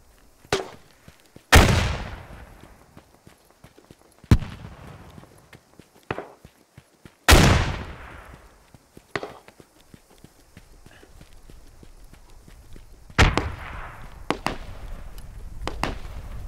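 Grenade explosions in the combat video game Squad, about six sharp blasts scattered over the span, each with a quick attack and a decaying tail, some loud and near, others fainter, with quieter crackles between.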